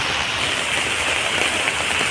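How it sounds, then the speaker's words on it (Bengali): Heavy rain pouring down steadily on a village home, a dense, continuous hiss close by with no let-up and no voices. "এত পরিমাণে বৃষ্টি হচ্ছে যে দেখো গোড়াটাও পুরো উপড়ে যাচ্ছে"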